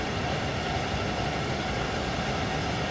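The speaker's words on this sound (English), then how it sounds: "It's a little bit boring inside of the train cab, especially you can hardly hear the train" A German regional express train in Train Sim World 3 gives a steady, loud rumble from inside the cab, with an even rolling drone throughout.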